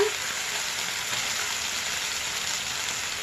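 Ginger and garlic frying in a pan while making a raw-mango puffed-rice masala, a steady, even hiss of sizzling oil heard alone at close range.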